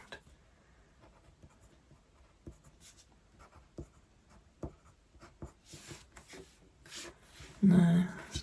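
A pencil draws small crosses on a journaling card, making repeated short scratching strokes in an irregular rhythm, close up, with a louder rough rub near the end and a voice speaking at times.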